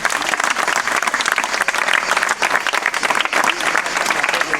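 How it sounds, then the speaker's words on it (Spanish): A group of people applauding together at the close of a guided walking tour through the old town quarter of Librilla, with steady, dense clapping from nearby for a few seconds. "un fuerte aplauso y nos despedimos ya"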